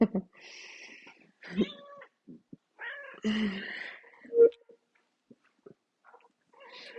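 A house cat meowing and crying in several drawn-out, close calls with short gaps, some rising and falling in pitch, no talk.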